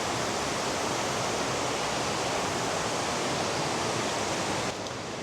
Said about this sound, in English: First sight of part of the waterfall is just here.